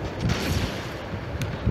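A hand mortar firing in the video game Gangstar Vegas, heard as dense booming rumbles and thuds packed into a short burst, loud and close with no talk over it.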